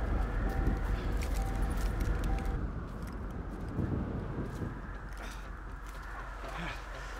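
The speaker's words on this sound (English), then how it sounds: "Oh, it's a fucking bird!" Soft bird cooing repeats in the background amid a busy, noisy Grand Theft Auto V soundscape, with some talking over it.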